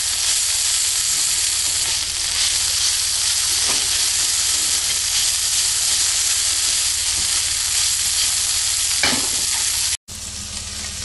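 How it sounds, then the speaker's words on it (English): Hot dog pieces frying in a pan, a loud, steady sizzle crackling close up throughout, with occasional scrapes from mixing and a brief cut near the end. "we are going to throw our weenies in there. And just mix it up."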